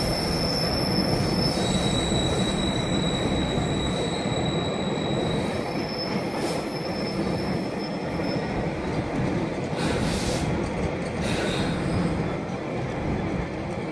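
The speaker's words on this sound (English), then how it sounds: "Finally, a freight train." A freight train rumbles past close by at Westbury, steady heavy roar with metallic wheel squeals and high screeching tones throughout.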